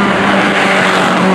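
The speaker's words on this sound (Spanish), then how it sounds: "Hay coche a la vista" A race car on the Caminos del Inca rally stage between Arequipa and Lima approaches the finish, a loud, steady engine roar with a rushing, tire-scrubbing edge that fills the whole moment without speech.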